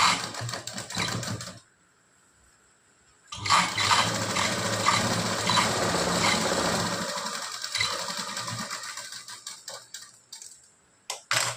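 A sewing machine stitches a tuck into thin blouse fabric, running in steady close bursts with a short pause between runs and no talking.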